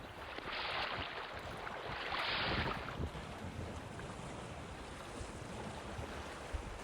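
Ocean waves wash against the rocky shore at Worm's Head on the Gower Peninsula in Wales, a broad steady roar with two swelling surges early on, heard alone under light wind.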